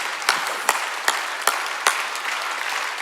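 A church congregation at a Sunday service claps together in a steady rhythm of strong beats roughly every 0.4 seconds over a continuous bed of applause.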